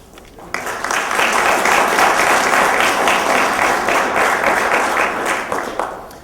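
An audience at a county commission meeting applauds, a dense sustained clatter of many hands that swells quickly, holds steady for several seconds, then tapers slightly near the end.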